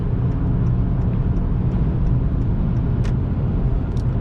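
Inside a 2018 Honda Accord Sport cruising at steady speed, a constant low road roar and engine hum fill the cabin with faint ticks on top and no voices.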